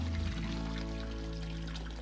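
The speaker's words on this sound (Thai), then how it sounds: "มุมนี้จะเป็นชุดน้ำตก ซึ่งข้างในบ่อน้ำตกก็จะมีกรองอยู่ข้างนครับ" Steady water pouring and splashing from a waterfall feature at a backyard fish pond with a built-in filter, a continuous close rush with no break.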